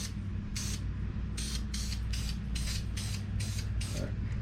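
An airbrush or spray can paints the interior of a 1/24 scale AMT Peterbilt 352 Pacemaker cabover model truck cab in a light coat: about nine short hissing bursts in a regular rhythm, close by over a low background hum.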